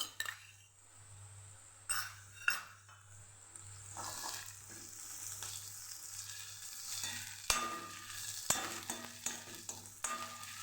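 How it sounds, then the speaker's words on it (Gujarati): Ginger and chili paste sautéed in a pan, a continuous soft sizzle with repeated clinks and scrapes of a spoon against the metal, close and fairly quiet. "આદુ મરચાંની પેસ્ટ પણ આપણે સાતડી લઈશું"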